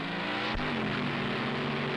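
Hurst Hemi Under Glass drag car, a 1965 Hemi-powered dragster driven by Wild Bill Shrewsbury, pulling a wheelie at a drag strip; a loud, steady engine roar with harmonic drone that holds throughout, one brief low thump near the start.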